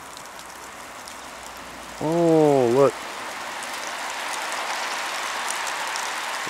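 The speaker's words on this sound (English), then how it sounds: "there's crap falling from the trees," Steady patter of water drops falling from trees through foliage in Maine in March, like light rain, with a brief voice speaking partway through.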